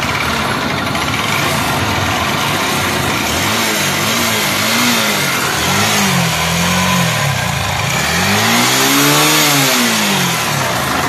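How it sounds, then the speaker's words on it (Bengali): An NS motorcycle engine, in rough condition before a full engine service, revs loudly and close up in a few rising and falling bursts over a steady running idle, with no talking. "সর্বপ্রথম আমি আপনাদেরকে বাইকটার সাউন্ড শোনা দেই"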